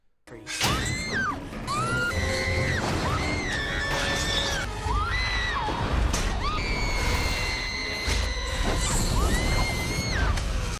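A woman lets out repeated high, piercing screams during the final battle of Spider-Man 2, loud over crashing, smashing debris and a dense roar of action sounds.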